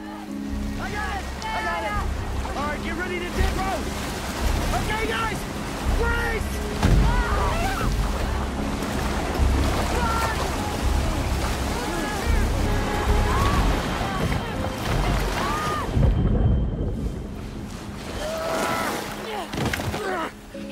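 A rushing river current from a film scene churns and surges steadily, with a voice speaking over the continuous water noise throughout.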